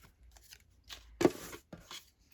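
Scissors trimming a stack of paper junk journal inserts to the same height: a few soft rustles and slides, then one sharp crisp snip followed by a quieter second cut, close and alone.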